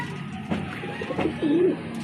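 A pigeon gives a soft, low cooing call against a steady background hum, brief and fairly close.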